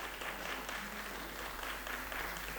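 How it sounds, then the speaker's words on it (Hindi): Theatre audience applauding at an inaugural literary festival ceremony, a steady moderate wash of clapping filling the whole stretch without pauses. "ताली बजाने का मन है तो बजा दीजिए आप लोग।"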